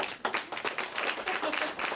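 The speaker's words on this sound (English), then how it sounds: "Clap, damn it!" Hands clap in a TV sitcom scene set before a wedding, a steady run of sharp, fairly close claps over about two seconds, with a faint voice mixed in.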